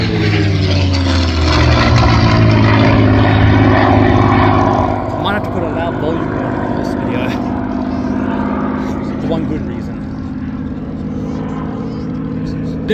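Propeller aircraft taxi at an air show in Temora, a loud continuous engine drone with a steady propeller hum, heard close with people talking over it.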